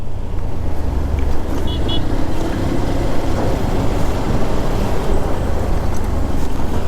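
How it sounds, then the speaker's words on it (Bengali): A motorbike rides down a steep mountain road to Sajek using engine braking, its engine drone loud and constant beneath heavy rushing wind noise. "এই ইঞ্জিন ব্রেকেই বাইক এখানে কন্টিনিউ রাইড করতে হবে"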